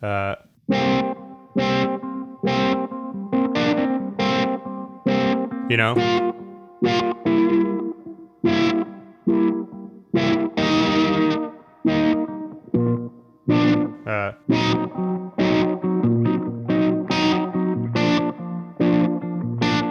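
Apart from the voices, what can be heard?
electric guitar through a filtery fuzz pedal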